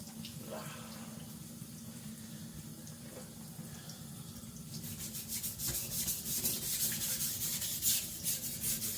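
A Chinese cleaver from IKEA is sharpened with steady rubbing strokes of the blade across a stone, low and continuous at first and then growing louder and more rhythmic, with brighter scraping in the second half.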